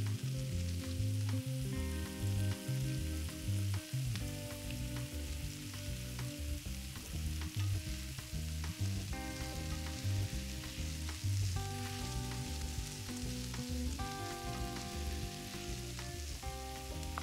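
Garlic and peppers sizzle in a pan at a home French cooking show, a steady frying hiss with occasional stirring under continuous background music.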